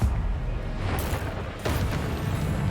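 A Confringo spell explosion in the video game Hogwarts Legacy, heard as a dense rumbling blast with a fresh burst partway through, loud and continuous without clear talk.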